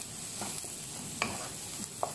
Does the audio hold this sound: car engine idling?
no